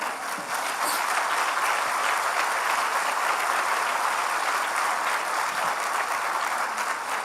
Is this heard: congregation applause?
yes